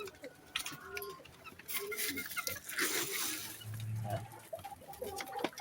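A young rooster (stag) clucks and coos while eating in its pen, giving short, soft, irregular calls mixed with pecking and rustling, with a low hum and other birds faintly around it.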